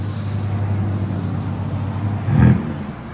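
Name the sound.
BMW M3 Competition exhaust with Dinan X-pipe, valve open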